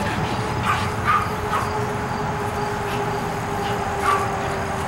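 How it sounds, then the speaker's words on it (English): Several Pekingese dogs yip and bark in short, scattered bursts at a moderate distance over a steady background hum, with no talking heard. "There's dogs everywhere."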